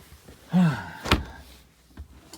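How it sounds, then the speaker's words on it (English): The door of a 1990 Pleasure-Way camper van shuts with a single solid, close thunk. Just before it comes a short voiced grunt of effort, and only faint quiet room sound follows. "stick that in the corner just to make the door shut"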